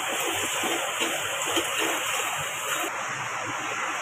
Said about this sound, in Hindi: इसे 2 से 3 बार पानी से अच्छे से धो लेना है